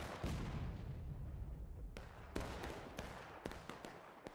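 Scattered musket volleys from a Civil War battle in War of Rights, distant and fairly faint, with several sharp cracks popping irregularly over a rumbling background of battlefield noise.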